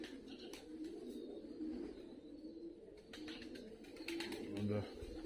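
Fighting pigeons in Tbilisi, Georgia, cooing softly in repeated low throaty phrases, with louder coos near the end and faint background clatter; someone talks over the birds.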